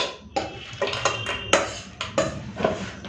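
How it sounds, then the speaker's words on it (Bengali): Cooked crab curry being poured and scooped into a bowl, with a series of sharp clinks and scrapes of a utensil against dishware at close range, irregularly spaced with no talking. "তো বন্ধুরা এখন আমি বাটিতে ঢেলে দিচ্ছি"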